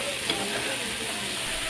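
Chopped okonomiyaki ingredients are stir-fried on a hot restaurant griddle, producing a dense, even, close sizzle that runs without a break.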